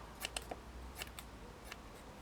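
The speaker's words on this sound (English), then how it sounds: "Now I just want this piece of the lace, so I'm going to cut this here." Scissors snip through a piece of lace with several quick, crisp cuts close by, glue-flecked blades clicking in short bursts with no talk.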